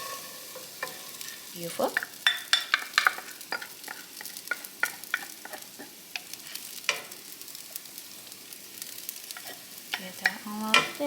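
White rice is stir-fried in oil with minced garlic over medium heat: a soft steady sizzle broken by repeated sharp scrapes and clinks of a utensil against the pan, with a brief spoken word.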